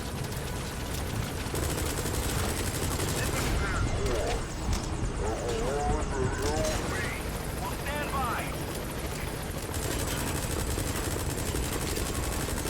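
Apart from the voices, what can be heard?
helicopter in Metal Gear Solid V video game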